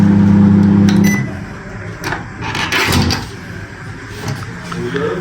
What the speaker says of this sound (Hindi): अब हम इसको माइक्रोवेव में रख देंगे।